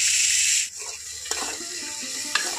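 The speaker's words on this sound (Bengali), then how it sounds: "এখন সজনে ডাঁটাটা হালকা করেই কিন্তু ভাজবো, বেশি ভাজবো না।" Drumsticks seasoned with salt and turmeric fry lightly in a pan for a Bengali dal sukto, a steady hissing sizzle broken by a few sharp clicks of a stirring utensil.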